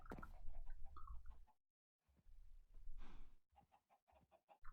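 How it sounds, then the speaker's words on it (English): Quacking and clucking fowl calls from ducks in Minecraft Sky Factory 4, several short bursts close by, with a brief silent gap midway. "And the duck's in there again."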